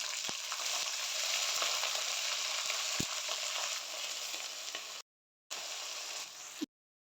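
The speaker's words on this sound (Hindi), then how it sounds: "प्याज को फ्राई करेंगे।" Onions frying in hot oil in a pan for potato and pea noodles, a bright continuous sizzle with occasional spits and pops, close and loud, briefly cutting out twice near the end.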